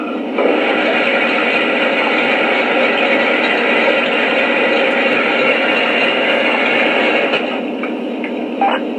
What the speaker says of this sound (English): Here's the sound of fuel filling up the fuel tank.